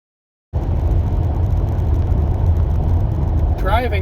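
A second-generation Nissan LEAF electric car cruises on California Highway 91 in traffic. After a brief silence, a steady broadband road and tire rumble with wind whir fills the cabin, and a short chirping sound appears near the end.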